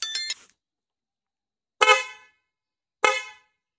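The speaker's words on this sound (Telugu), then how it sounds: "చూడండి చాలా లౌడ్గా వస్తుంది హార్న్." A Hero Splendor Plus motorcycle fitted with a newly wired aftermarket horn sounds three loud, short honks: one brief multi-toned burst, a pause, then two more blasts spaced about a second apart, alone with no talk.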